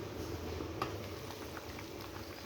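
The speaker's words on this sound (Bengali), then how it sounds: "দেখো বলক চলে এসছে আমার" Vegetable fish curry coming to a boil in a pot on a gas stove, a steady close bubbling simmer with faint pops throughout, no talking.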